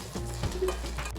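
A tempering of fresh coconut and curry leaves sizzling in a pan, a brief close crackle with light stirring scrapes, fairly loud and without talk.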